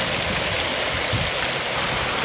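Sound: heavy rain

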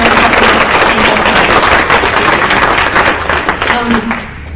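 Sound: audience applause for event sponsors

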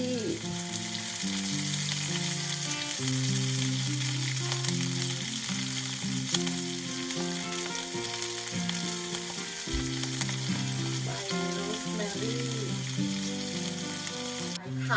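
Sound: garlic and shallots frying in a pan

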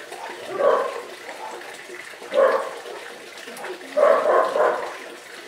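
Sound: dogs barking

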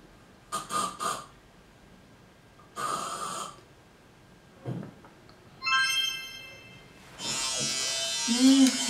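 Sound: electric shaver running

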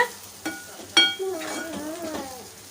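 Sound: sautéing seasoned toor dal mixture in a pan

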